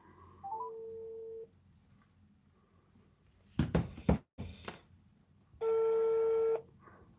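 A telephone number is dialed, and a short burst of tones and clicks sits between two sustained electronic tones, with a quiet background and no talk.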